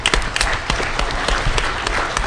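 Sharp, close applause from a hacker conference audience for a contest winner at DEF CON 17, loud and brief, with distinct individual claps within the burst.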